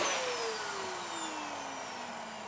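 A vacuum cleaner runs with a loud, steady whine that slowly drops in pitch, with no voices over it.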